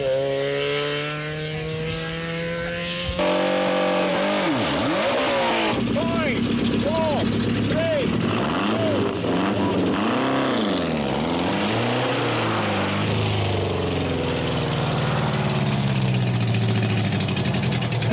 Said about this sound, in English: This is the Toyota Starlet of Hugh Jenkins and Alan Holt